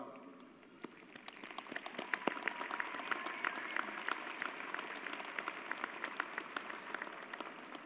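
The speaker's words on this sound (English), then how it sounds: "please stand so we can give you a round of applause as well" Sustained audience applause at the 2024 Florida State College at Jacksonville commencement ceremony, many hands clapping steadily across the whole stretch from a large crowd, fairly even and moderately distant.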